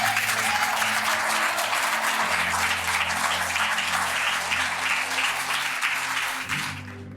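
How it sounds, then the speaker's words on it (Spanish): A church congregation at a Sunday service claps loudly and steadily, a dense wash of many hands sustained for several seconds before tapering off at the end. "aplauda fuerte allí"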